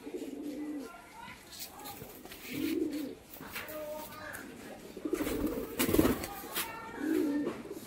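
Pigeons coo in soft repeated bursts, close and fairly quiet, with a few faint chirps and a voice talking in between.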